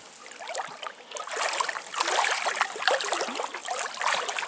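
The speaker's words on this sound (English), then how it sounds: "here comes my stream crossing" Footsteps splash and slosh through a deep stream as a backpacker wades across in shoes at night, with steady watery churning at close range and no talk.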